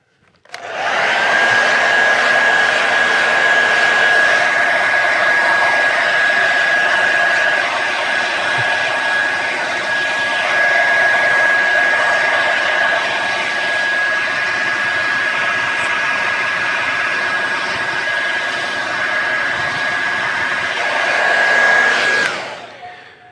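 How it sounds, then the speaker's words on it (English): A hair dryer blows steadily while drying a pompadour hairstyle, a loud continuous whooshing roar with a faint high whine, switching on at the start and cutting off near the end. "I only want to dry a little bit now, and then I will add some product and dry it again."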